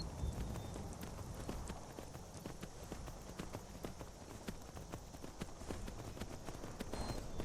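Horse hooves galloping steadily in Skyrim, a fast regular clip-clop rhythm running throughout over a constant game ambience, fairly loud and close, with no talk.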